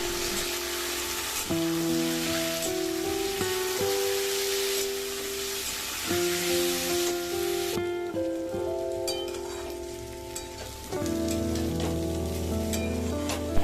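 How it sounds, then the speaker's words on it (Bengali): Moong dal frying with diced potato and pumpkin in a pan, giving a steady close sizzle with spatula scrapes throughout, while tonal music plays over the top. "ডালটা দিয়ে কিছুক্ষণ একটু ভেজে নিই"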